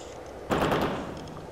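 A single machine gun burst from a gunner in a World War II setting, loud and sudden, decaying over about a second against a steady background hiss.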